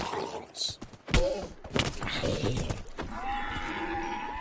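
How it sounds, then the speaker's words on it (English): A zombie horse in the video game Minecraft lets out a neigh among clip-clop hoofbeats and thumps, with talk over the game sounds. "I'm so glad to see a zombie horse though in action"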